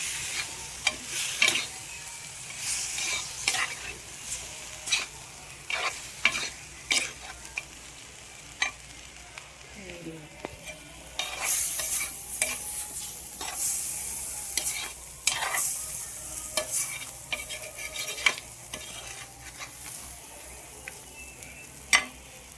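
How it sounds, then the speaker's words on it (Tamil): Chicken thokku with mixed egg fries in a pan, a constant close sizzle broken by frequent sharp scraping stirs at an uneven pace over the whole stretch, with no voices. "இதை நல்லா ஃப்ரை பண்ணணும்"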